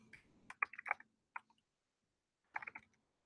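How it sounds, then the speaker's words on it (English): Bursts of clicking keystrokes on a computer keyboard, a quick cluster of taps, a pause of near silence, then another short flurry, close and fairly quiet. "How's my typing so far?"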